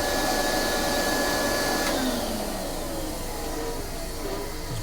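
A steady rush of compressed air or a blower clearing sanding dust from a turned orange-wood dish, loud and continuous, easing off slightly partway through, with no talk over it.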